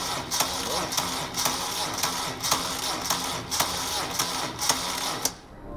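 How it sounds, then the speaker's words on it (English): A Moto Guzzi Breva 750 motorcycle engine cranks on a weak battery and fails to start. A steady, rhythmic chugging of the starter turning over repeats about twice per second, close and fairly loud, then stops abruptly. "Another failure to start."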